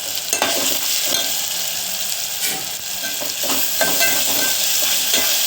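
Lentils sizzle and fry steadily in a pan with salt added, a spoon stirring and scraping through them in uneven strokes, close and fairly loud with no talking.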